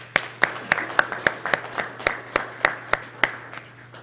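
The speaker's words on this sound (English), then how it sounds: "Please give me a round of applause for them." Audience applause at an annual business meeting: a steady run of about fourteen evenly spaced claps, close and moderately loud, with no voices over them.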